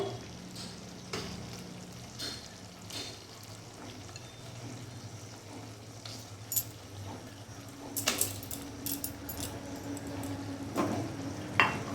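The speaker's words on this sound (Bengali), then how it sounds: "এবার আমি পনিরগুলো সব দিয়ে দেবো।" Paneer pieces go into spiced masala frying in oil for a shahi paneer, with a soft continuous sizzle, scattered metallic clinks and scrapes of a spoon against the pan, growing busier toward the end, with no talk.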